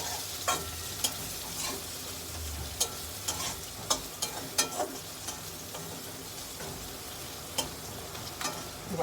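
Spices, capsicum, chillies and curry leaves sizzle in a pan as a soft, steady fry, with sharp scrapes of a spatula at irregular intervals.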